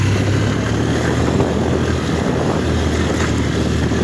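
A steady, loud engine drone with heavy wind rush runs throughout, like riding on a motorcycle at speed.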